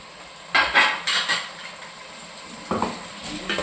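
A spoon scrapes and clatters against a pan while ground tomato paste is sautéed in oil for a fish curry. A handful of sharp, close stirring scrapes come in short clusters over quiet cooking noise.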